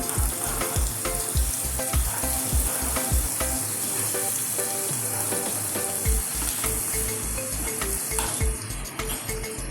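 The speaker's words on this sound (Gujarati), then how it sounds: "પછી જો આ લસણની પેસ્ટ લીધી છે ને એને આપણે થોડી સાંકળીશું" Garlic paste sautés in a pan for a Gujarati spicy garlic potato dish, giving a steady, close sizzle and crackle throughout, with a regular low thumping beat underneath for most of the time.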